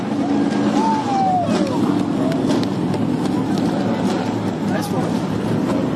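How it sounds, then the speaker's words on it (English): Several 900-horsepower Trans Am race cars rumble loudly and steadily at the start of a race at Watkins Glen, a dense low engine roar filling the whole stretch, with a voice speaking briefly over it. "And now the roar of these 900 horsepower Trans Am cars fills the air around Watkins Glen."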